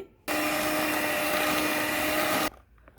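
An electric beater mixes chocolate moist cake batter, switching on abruptly into a loud, steady motor whir that holds for a little over two seconds before cutting off to quiet.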